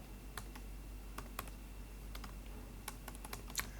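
Keys on a computer keyboard clack in quick, irregular bursts, close and light, over a steady background hiss, with no voices.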